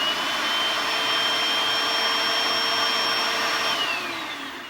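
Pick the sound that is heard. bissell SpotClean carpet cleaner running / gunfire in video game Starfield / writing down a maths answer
bissell SpotClean carpet cleaner running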